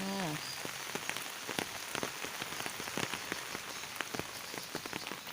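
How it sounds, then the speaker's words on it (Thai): Rain patters steadily on a hard surface in a garden in Ubon Ratchathani, Thailand, during a morning storm, with sharp individual drops tapping close by over a soft wash; a brief voice at the start. "วันนี้ฝนตก"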